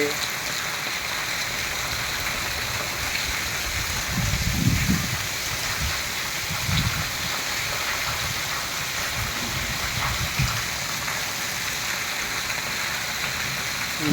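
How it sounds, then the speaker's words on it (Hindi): Steady late-monsoon rain pours down in Chotila Kalasar, a dense continuous hiss of drops on surfaces with a few low rumbling swells, and no talk. "ભાદરવાનો વરસાદ ચોમાસાના વિદાય વેળાએ ચોટીલા કાળાસરમાં પડી રહ્યો છે"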